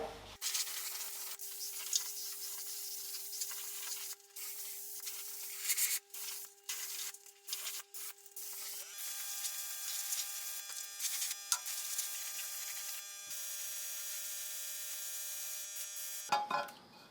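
Brush strokes of rust-preventive paint being worked onto the rusted, patched trunk of a Mazda RX-7 FD3S, a steady close scratchy rubbing with short pauses and a faint hum behind, no talk.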